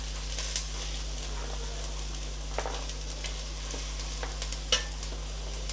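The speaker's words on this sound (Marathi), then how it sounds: "हे छान असं मिक्स करून घेणार आहे टोमॅटो वगैरे त्याच्यात" Peas and tomatoes fry in a pan for a traditional village-style Bhogi vegetable dish, giving a steady close sizzle with scattered scrapes and clicks from stirring, and nobody speaks.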